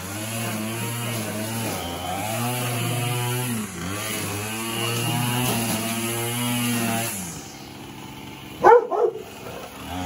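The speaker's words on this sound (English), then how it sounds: "I can't believe he barked at a weed eater." A weed eater's engine whines and drones steadily for several seconds, then cuts out, and a dog lets out a short burst of barks nearby.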